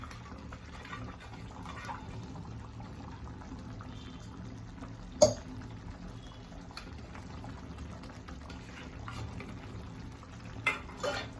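Cashew paste being sautéed and stirred in a pan: a faint, quiet scrape and soft sizzle with an occasional sharp clink of the spoon against the pan.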